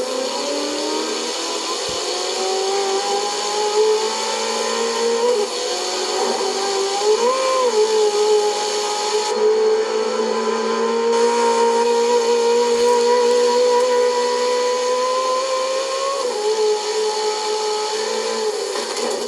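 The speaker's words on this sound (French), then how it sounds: "on va mettre plein gaz. Et profiter du bruit du V8." A high-revving Ferrari V8 engine in a video game drones continuously at full throttle, pitch climbing and dipping slightly, loud and up close with no talking.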